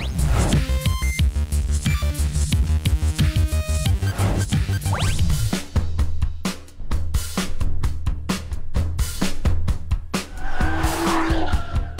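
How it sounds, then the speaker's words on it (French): Nissan Skyline GTR driven hard around a lap in Las Vegas, engine roaring loud and continuous with bursts of tire squeal and skidding, revs rising and dropping through gear changes. "puisqu'il s'agit de la Nissan GTR"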